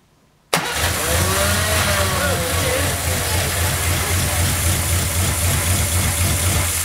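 A Ford 8 Model Y engine under repair fires up suddenly after a moment of quiet, then settles into a loud, steady, rumbling idle close by.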